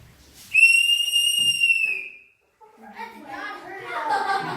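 A single loud, piercing whistle blast sounds for about a second and a half, followed by someone talking nearby.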